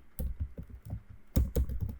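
Keys clack on a computer keyboard in a short burst of typing, a run of quick, close taps with a brief pause before a louder cluster.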